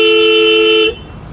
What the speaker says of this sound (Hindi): नीचे साइड तो बुलेट वाले हॉर्न लगा दिए, बहुत ही हैवी क्वालिटी में हॉर्न है